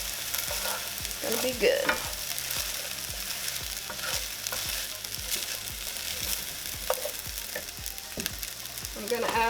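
Fried rice with soy sauce sizzling steadily in a hot pan while a utensil scrapes and stirs it in repeated strokes; a brief spoken remark is heard near the end.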